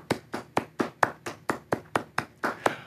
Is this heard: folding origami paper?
no